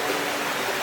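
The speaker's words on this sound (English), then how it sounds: "The constant sound of the water rushing over the rocks has a very calming effect on my mind and body." Water in a forest creek rushing over rocks: a steady, close, broadband shushing that never lets up, with no voices.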